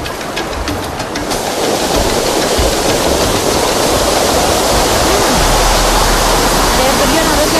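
A waterfall on the Ciliwung river roars loudly and close by as a constant, dense rush of falling water that swells slightly and stays steady throughout.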